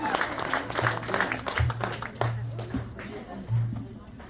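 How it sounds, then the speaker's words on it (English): A crowd applauds a band with a dense wash of clapping, while low tonal sounds and background chatter mix in underneath. "give a round of applause for the Olympian band"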